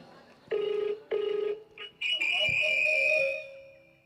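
A mobile phone rings loudly nearby in a church setting, two repeated electronic tone bursts followed by a rising melodic ringtone phrase, with a brief voice between the rings.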